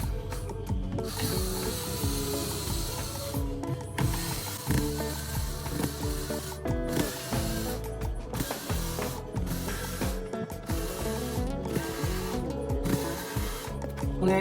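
Screws being backed out of the rear panel of an old, non-working home theater unit with a ratcheting screwdriver, producing steady rapid clicking and whirring that runs continuously throughout.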